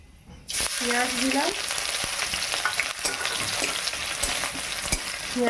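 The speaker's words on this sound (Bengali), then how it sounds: "পেঁয়াজটা ভাজা হোক তারপর আদা দেব" Onion frying in hot oil in a pan for a Bengali fish curry, with a steady loud sizzle after a brief quiet start and occasional scrapes and stirring knocks, no voices.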